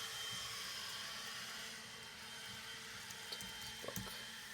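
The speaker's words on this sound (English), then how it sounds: "Sorry about the leaf blower." A leaf blower runs outdoors in autumn as a steady, broad whooshing roar that fills the whole clip at moderate distance, with a few faint clicks and taps on top.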